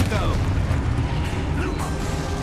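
Confringo and Levioso spell blasts from Hogwarts Legacy form a dense, continuous rumble of magical booms and bursts with swishing effects, steady and loud throughout, while a voice talks over the top.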